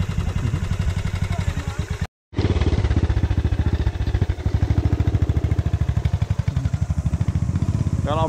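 Dirt bike engine running steadily and loud, with a rapid dense firing beat that drops out briefly near the two-second mark before resuming at a steady idle-to-midrange pace, on a family trail ride.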